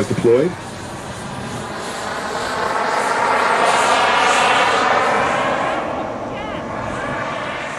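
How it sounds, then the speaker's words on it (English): A jet airplane in a flight simulator game makes a slow, low pass with full flaps and gear down near stall speed: a steady engine roar swells to a peak and then fades slightly, running continuously throughout. "Nice slow pass, full flaps."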